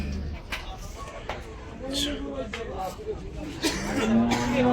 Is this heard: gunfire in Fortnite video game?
no